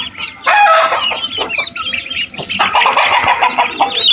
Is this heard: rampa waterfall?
no